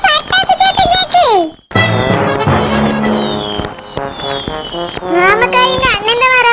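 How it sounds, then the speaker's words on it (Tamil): Cartoon firecrackers burst in a quick run of sharp pops over festive music, with animated voices talking before and after the crackle. "அங்க பாரு, பட்டாசு சத்தம் கேக்கு"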